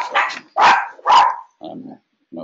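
Puppies barking outside a house, several loud, sharp barks in quick bursts, then a couple of lower, softer yips and whines near the end.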